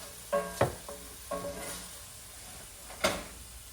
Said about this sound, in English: I'm gonna go ahead and put the sausage in a bowl